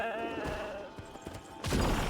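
A goat bleats in a video game, a wavering, nasal cry that holds for over a second and a half before a louder burst of game noise cuts in, with no talk over it.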